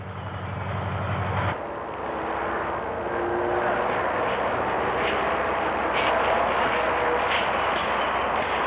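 A 15-inch gauge narrow gauge woodland railway train pulling trucks rumbles and clatters as it rolls to a stop near a wood pile, with a low engine hum at the start and steady outdoor noise after.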